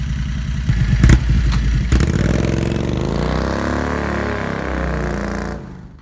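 A Renault car fitted with a 670cc Predator engine and a new muffler runs close by, a loud rough clattering idle with a quick rev before settling into a steady drone that cuts off at the end.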